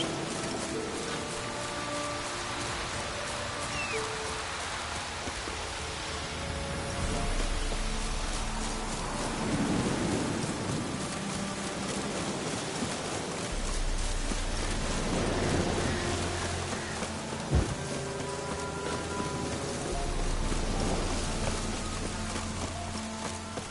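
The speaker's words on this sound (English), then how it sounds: "drizzling." Light drizzling rain patters steadily in a soft, even hiss throughout, with faint scattered drops and a low background hum.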